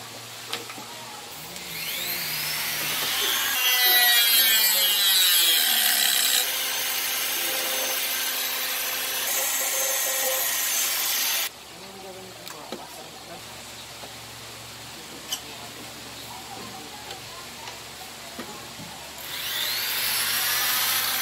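Steady abrasive grinding and rubbing on a small bamboo keychain piece, carving a dark divot into knotted bamboo, runs loud and continuous, with the pitch shifting as pressure changes and a brief lull midway.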